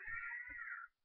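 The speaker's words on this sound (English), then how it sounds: "There's the kitty cat." A house cat gives one drawn-out meow, close and clear, in a bedroom, with a faint low thump partway through and silence after it fades.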